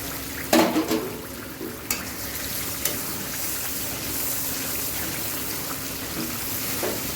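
A lid is lifted off a pot of boiled chickpeas and potatoes, giving a few close metallic clanks over a steady low hiss of steam and simmering.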